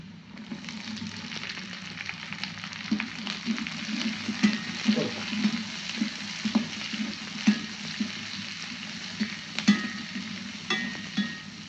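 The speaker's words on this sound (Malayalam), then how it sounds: "ഒരു ക്യാപ്സിക്കം, വലിയൊരു ക്യാപ്സിക്കം 2 വലിയ ഉള്ളിയാണ് മുറിച്ച് വെച്ചിട്ടുണ്ട്, ഇട്ട് കൊടുക്കാം." Capsicum and onions for chilli chicken sizzle steadily in a hot pan, a close, constant frying hiss punctuated by regular soft clinks and scrapes of stirring.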